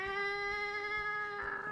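A human voice imitates a cat, giving a sustained nasal 'garbage cat' meow that holds one steady, drawn-out tone for under two seconds, close and clear with no other sound around it.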